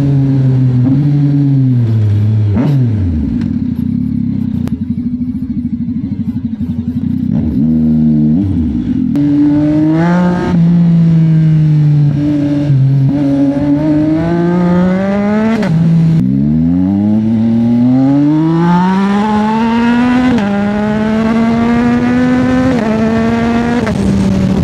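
A Yamaha XSR 900 motorcycle engine drones steadily while being ridden through Manila, rising and falling in pitch as it revs up and eases off, loud and close throughout.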